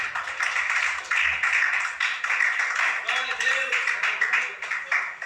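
A church congregation at a Pentecostal worship service claps together in a dense, steady patter lasting several seconds, with voices mixed in over the clapping.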